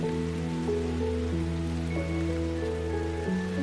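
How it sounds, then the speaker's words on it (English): Heavy rain drums on leaves as an even, constant hiss under calm, drawn-out musical notes. "They are hitting your leaves with some force."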